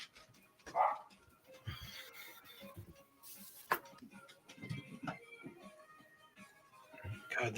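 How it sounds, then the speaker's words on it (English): Dogs in a house bark and yelp excitedly at a cat in the backyard, with scattered barks at varying distances, mixed with someone talking and some handling noise. "Because my dogs are losing their freaking minds."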